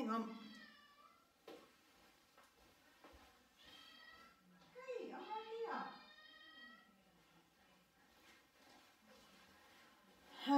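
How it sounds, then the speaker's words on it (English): A hungry indoor cat meows repeatedly, a string of tonal cries rising in the middle, fairly close and moderately loud, with quiet sounds between calls. "He's just meowing for more food."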